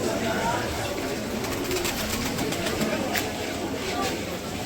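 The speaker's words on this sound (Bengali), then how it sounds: "কবুতর, অনেক কবুতর, অনেক।" A large flock of pigeons coos steadily at the Hazrat Shah Jalal shrine in Sylhet, a soft continuous murmur of calls beneath nearby people talking.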